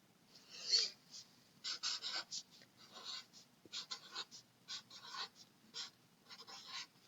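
A pencil scratches a dictation word onto lined paper in short bursts of strokes with brief pauses between letters, close and quiet, no talking.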